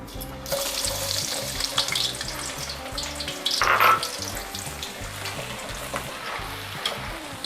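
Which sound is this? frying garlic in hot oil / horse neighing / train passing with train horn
frying garlic in hot oil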